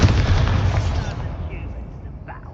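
Bombarda blast spell cast in Hogwarts Legacy: a loud, close booming explosion with a crackling burst that decays over a couple of seconds, with faint talk underneath.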